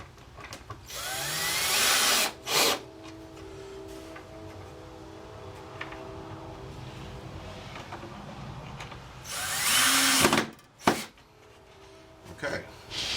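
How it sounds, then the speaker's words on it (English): A power drill driving a screw while a wall-hanging tool cabinet is built, two loud whirring bursts each lasting a couple of seconds with sharp clicks between, close up, and someone talks quietly in between. "Let's line that up. And we'll screw it in."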